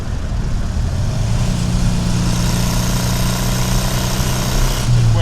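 Air-cooled engine of a 1966 Karmann Ghia Cabriolet hums steadily through a quick upshift to fourth, a low drone holding fairly loud and even from start to finish, shifting pitch slightly near the end.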